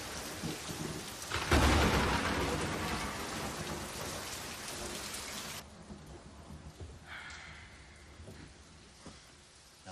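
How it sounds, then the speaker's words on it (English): Steady rain pours down, loud and close, with a heavy burst and low rumble early, then eases to a softer patter. "Get out of the rain, kid"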